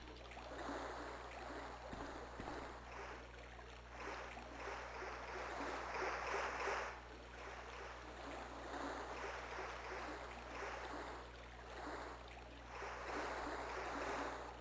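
Flowing water in Resident Evil 2 on PlayStation rushes in a steady, moderately loud wash that swells and eases in gentle surges, with a low constant hum underneath and no voices.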